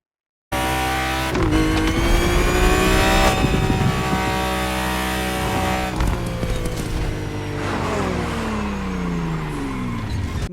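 An upgraded BMW CSL driving in The Crew Motorfest, its engine droning loud and steady throughout, with the revs rising and dropping through gear changes and a brief tire squeal.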